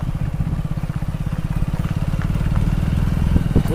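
A motorcycle ridden by a beginner putters with a steady, rhythmic engine pulse that builds slightly as it gains speed and shifts gears, with a voice faintly present.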